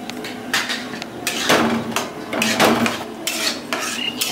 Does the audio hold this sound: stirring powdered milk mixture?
yes